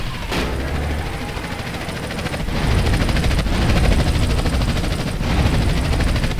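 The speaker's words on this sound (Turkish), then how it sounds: "Al sana helikopter" Helicopter in GTA San Andreas: a steady, loud rotor-and-engine drone fills the whole stretch, swelling slightly midway, with a few sharp cracks and game noise layered over it.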